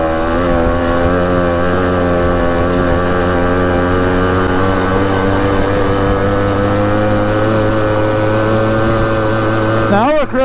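A Rokon 2x2 two-wheel-drive motorcycle cruises along with a loud, close, steady engine drone that holds an even pitch throughout, then shifts abruptly right at the end.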